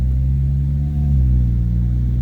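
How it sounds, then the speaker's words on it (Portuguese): A used car's engine runs steadily in drive with the handbrake released, a low, even idle rumble heard up close with no other sounds. "tenho o carro no drive, baixei o freio de mão e vou ouvir o som do carro"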